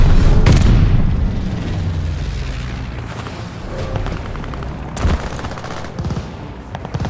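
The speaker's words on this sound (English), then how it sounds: "Stun grenade out." A stun grenade detonates in the Call of Duty: Vanguard video game: a loud close blast with a ringing low rumble that fades, followed by scattered game sounds and a second sharp burst of gunfire-like cracks.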